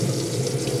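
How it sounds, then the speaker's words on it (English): Water runs steadily from a tap inside an Adria Compact Supreme caravan, fed by the onboard water pump, producing a continuous close-up rushing flow with no talk over it. "Just showing your water pump working."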